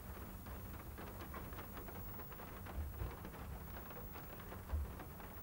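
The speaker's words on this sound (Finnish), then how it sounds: "Kuulet sä, kun sataa?" Steady rain falling outdoors, a dense even hiss of drops with a couple of soft low thumps, continuous and moderately loud with no voices.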